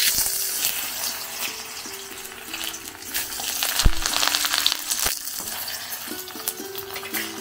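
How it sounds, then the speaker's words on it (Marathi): Momos fry in very hot oil in a kadai, giving a moderate continuous bubbling sizzle with occasional clinks of a spoon against the pan, heard close and alone. "आपण ह्याच्यामध्ये मोमोज फ्राय करूया"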